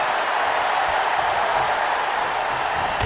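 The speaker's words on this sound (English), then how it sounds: "What a raucous crowd here tonight." Simulated arena crowd in the WWE 2K23 wrestling game, a dense steady roar of cheering and applause throughout at moderate loudness.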